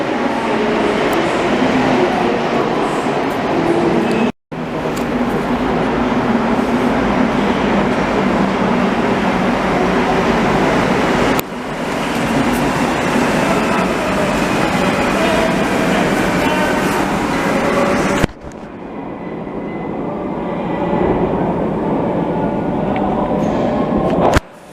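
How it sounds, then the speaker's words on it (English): Montreal metro trains roar through the underground in a loud, continuous rumble with rattling wheels, broken by a few abrupt cuts and a shift in tone as cars pass close by. "Filming these trains, milking them as long as I can."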